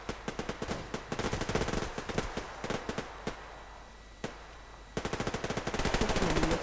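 Gunfire in the Survarium video game: rapid automatic bursts of sharp shots, some loose single shots, a short lull, then sustained fast firing again, heard at moderate volume with no talk.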